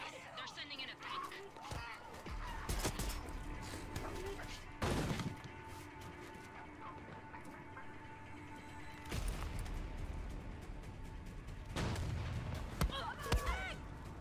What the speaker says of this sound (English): They're sending in a tank.